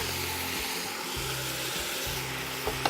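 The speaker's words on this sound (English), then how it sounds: "We're gonna have to let this saute" Fresh tomatoes sauteing for tomato basil soup, a steady close sizzle and hiss from the pan with a low hum beneath and a couple of small clicks near the end, no talking.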